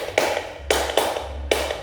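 Four crisp, close hand claps in a classroom clapping routine, spaced in an uneven pattern with a short pair near the middle, loud and clear without any talking.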